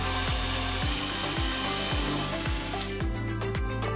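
A power drill bores two holes into the end of a scaffold-board wooden upright, its motor whining steadily with repeated rhythmic pulses of the bit biting wood, close and loud throughout.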